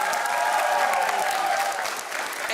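Audience applause for the Šmarje-Sap primary school team at a cup-stacking competition, with brisk continuous clapping and a faint tonal sound beneath, tapering slightly near the end.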